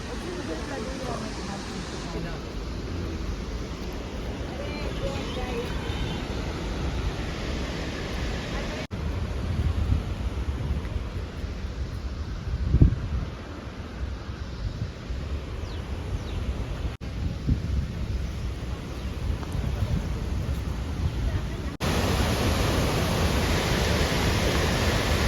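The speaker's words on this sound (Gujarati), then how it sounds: "કાન પડ્યું ન સંભળાય એટલો ધોધનો અવાજ આવે છે પાણીનો ઘણું બધું." Steady, loud broadband roar of Giradhodh waterfall in Dang, water plunging from height with force, continuous throughout with a brief louder surge midway; a voice speaks faintly underneath.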